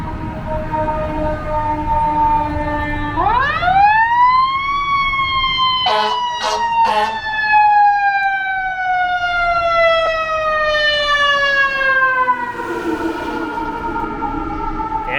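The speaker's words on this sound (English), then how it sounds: "It's a York Regional fire truck." York Regional fire truck siren approaching and passing, a loud rising wail that sweeps down slowly, with a few sharp horn-like bursts midway and traffic noise underneath.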